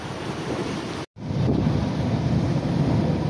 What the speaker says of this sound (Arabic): البحر هو كتشاهدوه باقي قاصح